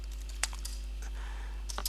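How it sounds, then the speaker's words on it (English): Light typing on a computer keyboard as a name is entered into a spreadsheet ticket form, a few sparse soft key clicks over a steady low hum. "So you can type somebody's name in there."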